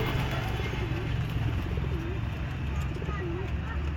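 A black cobra pigeon coos in soft repeated rolling calls at an outdoor pigeon sale, over a steady background hum and low noise, with someone talking nearby.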